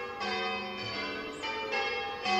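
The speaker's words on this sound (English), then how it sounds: "Oh, bloody church bells." Church bells ringing outdoors near a theatre, a series of sustained, overlapping peals that swell and fade in a steady rhythm, fairly close and alone without talk.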